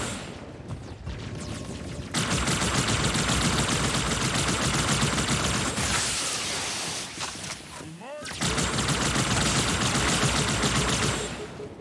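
AI enemies fire rapid weapon bursts at the player in Halo 2 Anniversary. Dense, loud automatic gunfire continues almost without pause, breaking briefly twice, with explosion-like thumps mixed in and a voice talking over it.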